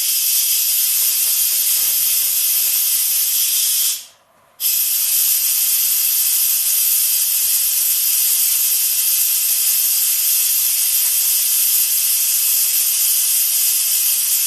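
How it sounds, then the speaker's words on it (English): A strong, continuous hiss of steam jetting under pressure from an Instant Pot pressure cooker, loud and close, cutting out briefly for a moment before resuming steadily. "The jet of steam hisses"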